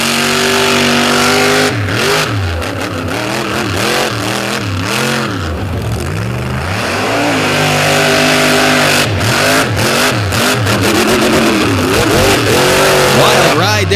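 Redline Oil Team Throttle monster truck engine revving hard at an Indy arena event, loud with repeated rising and falling surges under an arena announcer's commentary.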